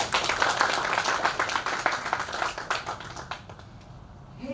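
An audience at an award ceremony applauds with dense, sustained clapping that gradually thins out and fades toward the end.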